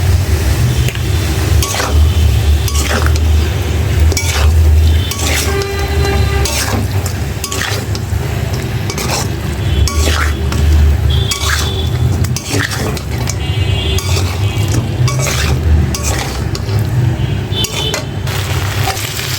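Snakehead fish frying and being stirred with spices in a pan, with steady sizzling and repeated metallic clinks and scrapes of a utensil against the pan, close and continuous.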